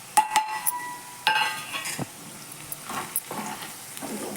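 Ground pepper, mustard seed and cumin powder frying in oil for chicken pickle, a soft sizzle broken by sharp clinks of a utensil against the pan and a few scraping stirs.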